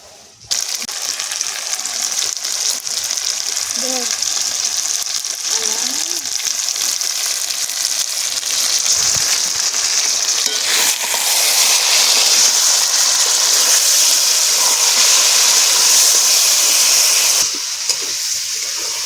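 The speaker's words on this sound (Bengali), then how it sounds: "কষাই করতে হবে, মাংসটা যাতে ভালো করে সেদ্ধ হয়।" Mutton sizzles and hisses steadily in a pan as it is sautéed for a curry, a loud continuous frying sound close up with brief faint stirring noises.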